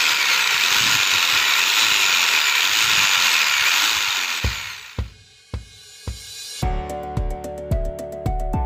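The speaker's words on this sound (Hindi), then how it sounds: "हम बारी बारी तमाम होल जो हैं आर पार कर देंगे" Power drill boring holes through a house wall for solar panel bolts, a loud continuous whine for several seconds that winds down, followed by sharp knocks and short clattering bursts.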